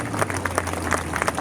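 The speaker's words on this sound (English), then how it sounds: "Can we hear a round of applause for my esteemed colleague" Crowd applause at an outdoor Armenian Genocide commemoration in Times Square, a brief patter of clapping with a steady low hum underneath, moderately distant and fairly faint.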